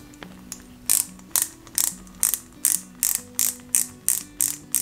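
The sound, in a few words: screw being driven into model car part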